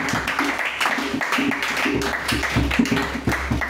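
A church congregation claps along at a worship service in an even, rhythmic pattern, sustained and fairly close, with voices mingling beneath the claps.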